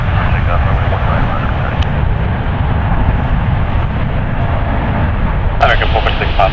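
An ANA Boeing 787-9 Dreamliner, seven years old, takes off from runway 1 right at San Francisco International, a loud continuous engine roar under radio-style talk.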